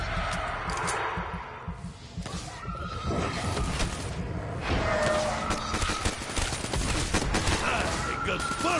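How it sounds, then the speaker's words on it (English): Rapid AK rifle fire in a zombies video game: dense, loud bursts of gunshots that run almost without a break, with booms and shattering mixed into the chaotic barrage. "The AK has never let me down"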